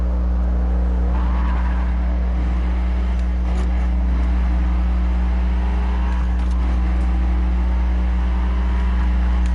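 A V8 SUV engine running with a coarse, grinding tone, steady and close throughout with a heavy low hum and some tire-like squeal noise layered on top.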